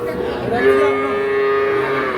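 A Sahiwal cow lets out one long, loud moo close by, sustained for nearly two seconds, at a cattle market.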